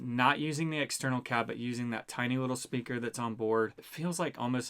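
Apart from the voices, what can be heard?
None of the usual background noises is heard.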